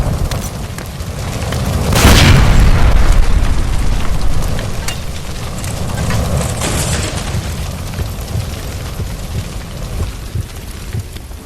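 In the video game L.A. Noire, a gas line by a stove bursts with a heavy, rumbling boom that swells and slowly fades into a crackling, roaring wash, followed by a softer second rumble, loud and close.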